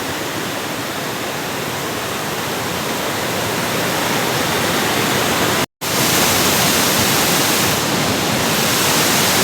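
Kelavali waterfall near Satara: a loud, dense, unbroken roar of rushing water close by, with a momentary cut in the middle before the same steady torrent resumes.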